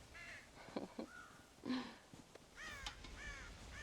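Crows cawing in the video game Red Dead Redemption, raiding a farm silo for corn, several harsh caws in quick succession, fairly close and clear, with a short pause between bursts and no talk over them.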